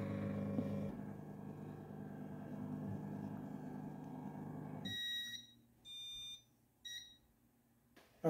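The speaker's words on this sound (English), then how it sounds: "Once it gets to the end, it cycles a tone and asks me if I want to do it again." A homemade robotic faceting machine sounds its end-of-program tone: after a stretch of low motor hum, a few short electronic beeps ring out clearly, separated by brief pauses.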